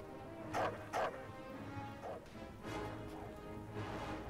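Dogs in the Call of Duty WWII video game barking twice in a short burst, followed by a few quieter yips and rustles over a low game ambience.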